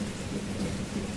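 Steady rainfall during a thunderstorm, a dense even hiss of rain with low rumbling thunder beneath, constant and moderately loud with no voices.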